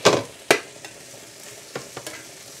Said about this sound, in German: Jetzt können wir auch schon die Frühlingszwiebeln dazugeben.